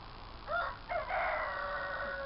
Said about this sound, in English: we've got chickens next door, so we might get a bit of commentary off them as well